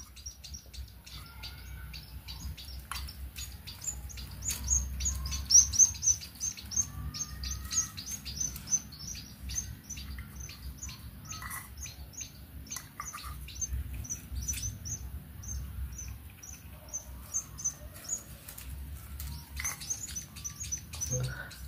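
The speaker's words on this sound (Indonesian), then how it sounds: "memberi makan dua bayi burung pipit" Two baby sparrows chirp hungrily while being hand-fed, a steady stream of rapid high cheeps and tweets close by, persistent throughout with soft handling noises beneath.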